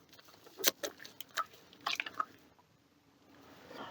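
A foam soap dispenser squirting out foam, giving a few soft, wet squishing and dripping pulses, close and faint against a quiet room, no talk.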